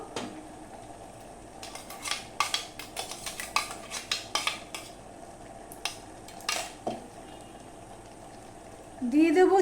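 Overripe mango pulp goes into a wok and gets stirred, a ladle scraping and clinking against the metal in an irregular burst of knocks, with a louder pour or slosh near the end.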